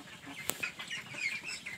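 Young meat-breed ducklings at the starter stage give soft, high peeping chirps, several faint calls scattered over a quiet background.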